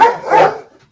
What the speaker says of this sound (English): while the dogs go crazy over something